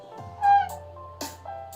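A house cat meows softly indoors, a few short, separate calls in quick succession with no talking.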